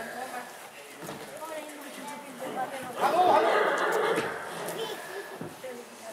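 A horse at a cavalry and soldier event whinnies loudly in the middle, with softer neighs and background chatter of people around it.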